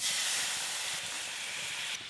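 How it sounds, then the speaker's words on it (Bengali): Water poured onto a very hot iron tawa on a high flame while cooking aloo kulcha, flashing into steam with a loud, steady hiss that eases slightly partway through. "এই যে জল থেকে স্টিমটা উঠছে"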